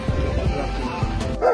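Several dogs bark and yip repeatedly at a dog kennel at a home dog shop in Guwahati, Assam, close and loud, overlapping in an uneven rhythm throughout.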